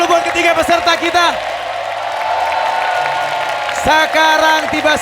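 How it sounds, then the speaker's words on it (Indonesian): A studio audience on a talent show applauds three celebrity contestants with a few seconds of steady clapping, set between a host's spoken lines. "Oke, tepuk tangan dulu buat ketiga peserta kita."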